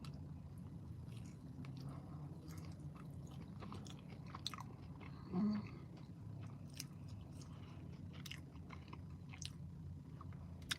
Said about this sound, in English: I'm eating Cajun French fries.